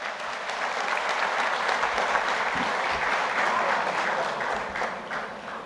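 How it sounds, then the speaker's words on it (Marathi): An audience claps together at a closing ceremony of an organization's gathering, a sustained, even wash of applause from a large crowd lasting several seconds at moderate level and fading slightly toward the end. "सर्वांनी एकदा स्वतःसाठी टाळ्या वाजवायच्या आहेत."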